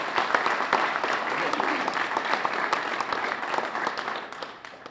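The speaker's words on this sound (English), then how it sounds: "So a round of applause for all staffers, for all elected officials across all levels of government" An audience at a Chamber of Commerce legislative breakfast claps steadily and evenly throughout, a dense mid-level wash of many hands with no break.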